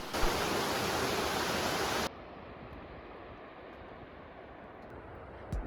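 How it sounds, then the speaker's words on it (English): A waterfall in West Iceland gives a steady, dense roar of falling water that fills the whole clip, loud for the first two seconds and then softer and more distant, with no voices. "So this is the next waterfall."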